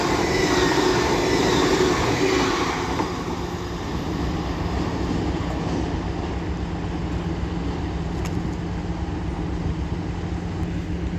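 A Class 800 train passes through Doncaster station on the East Coast Main Line, a broad rumbling roar that is loudest at first and then settles into a steady fading hum.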